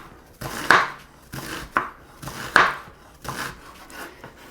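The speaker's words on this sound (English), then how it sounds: "we'll just make some nice cuts running one way, and then right through the other way to get a nice diced onion" A knife dices an onion on a cutting board, giving about five distinct crisp chopping thuds with short pauses between them, close and clear with no talk.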